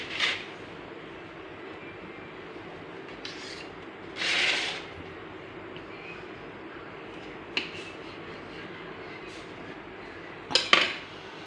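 A knife cuts through homemade rusk cake on a plate, giving a few sharp scraping and clinking strokes against the plate spread apart over a steady background hum.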